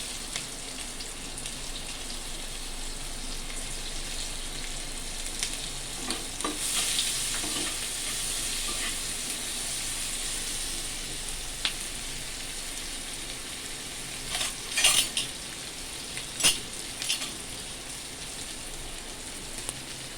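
Chopped onions frying in a pan with cracked, peeled boiled eggs for egg curry: a soft, steady sizzle runs throughout, with a few brief clinks and scrapes near the end, and no one speaks.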